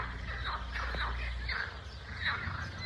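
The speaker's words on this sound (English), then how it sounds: "sounds like ducks, maybe frogs" Nasal, honking bird calls repeat in short bursts over a steady low hum, sounding like several ducks quacking outdoors at moderate distance.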